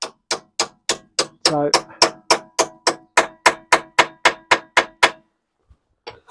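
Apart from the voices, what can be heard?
hammer tapping a socket onto a Volvo V70 rear brake bolt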